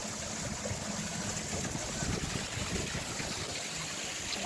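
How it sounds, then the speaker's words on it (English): Steady rushing water from a small waterfall at an outdoor model village, a continuous broadband wash with low rumble, constant and fairly loud throughout with no pauses. "This waterfall once again, which is very annoying for audio."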